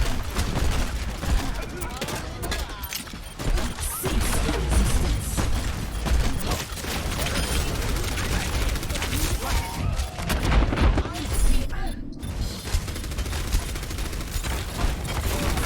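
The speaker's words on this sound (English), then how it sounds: "Incase is shooting at someone" Gunfire from a teammate shooting in Overwatch on the Numbani map: dense, continuous rattling shots and impacts fill the whole stretch, loud and busy, with game effects and a voice talking over them.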